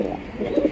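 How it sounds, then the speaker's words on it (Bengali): A male pigeon gives a brief, low, soft coo, close by and alone. "এই যে দেখেন নর কিন্তু ডাকাডাকি শুরু করে দিয়েছে"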